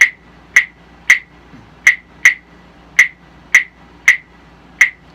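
Wooden claves knocked together, repeating sharp dry clicks in pairs at a steady pulse, about ten strikes, close and loud with nothing else audible.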